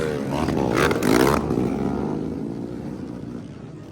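An underbone motorcycle roars loudly nearby at an outdoor motocross event in Valencia City, Bukidnon, the engine swelling to a rasping peak and then holding a heavy, steady drone that slowly eases off.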